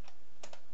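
A short run of keystrokes typed on a computer keyboard while entering a command at a Windows command line, a few quick close taps with no talking.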